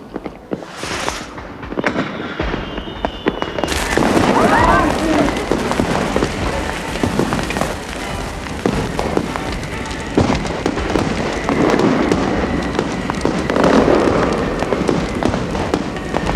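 Fireworks burst outside during an evening gathering at a seaside house in 1930s Cornwall, a dense run of crackling pops and bangs that continues steadily beneath people talking.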